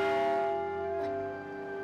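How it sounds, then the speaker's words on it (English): A real church tower bell strikes once, its bright ringing tone with layered overtones sustaining and slowly decaying, heard alone and fairly clear. "it's going to be interesting to see what a real bell is going to sound like."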